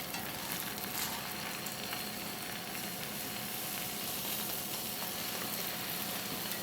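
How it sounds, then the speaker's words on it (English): A grilled cheese sandwich sizzles in a frying pan with a steady, dense crackle that holds evenly throughout, with no one speaking. "Love that sizzle."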